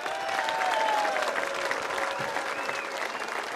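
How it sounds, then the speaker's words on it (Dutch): Audience applause at a finale event, a broad sustained wash of clapping from a crowd, steady throughout, with a faint tone sounding over it. "Dames en heren, een heel applaus voor de vertegenwoordiger van het Oranje Fonds, Esther den Breyen."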